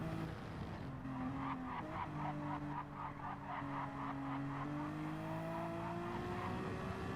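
A Honda NSX GT3 race car in a racing simulator holds a steady engine drone through corners, with rising and falling pitch, shifts, and sustained tire squeal. No voices are heard.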